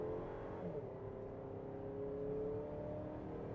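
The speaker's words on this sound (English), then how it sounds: "I've got it revving." A 2025 Buick Enclave engine revving and accelerating off the line, a steady loud drone with a slowly rising whine, heard from inside the cabin.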